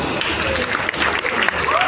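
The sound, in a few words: audience applause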